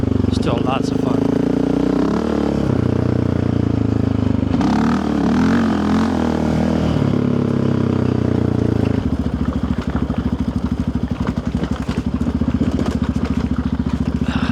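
A Raptor ATV is ridden over a very rocky trail at Copper Creek. The engine drones and revs loudly throughout with clattering and rattling over rocks, growing rougher and more percussive in the second half, with a voice talking over it.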